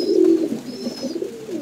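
Pigeons kept for breeding give a soft, brief, low cooing call, a single throaty burst followed by a quieter warble, heard close by with no talking.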